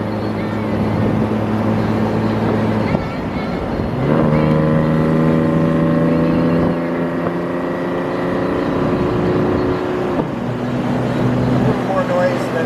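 A Mercedes 230 SL's engine runs steadily while the car drives, a droning hum whose pitch climbs as it revs through gears and settles again, with wind noise throughout and people talking over it.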